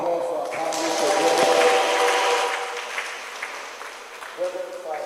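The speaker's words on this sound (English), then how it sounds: "Please, a round of applause for our panelists" Audience applause for panelists at a national peace forum, a dense burst of clapping from a seated crowd that swells early, then thins and tapers toward the end.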